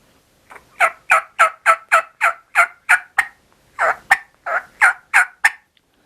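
A wild turkey gobbler gobbles in two loud, close series of rapid, evenly spaced gobbles, with a short pause between the bursts.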